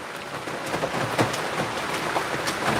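Rain falls steadily at a cemetery, a dense, close patter with sharper individual drops spattering throughout.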